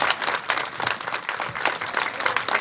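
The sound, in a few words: crowd applause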